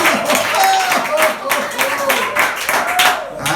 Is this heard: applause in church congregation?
yes